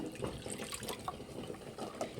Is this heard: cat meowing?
no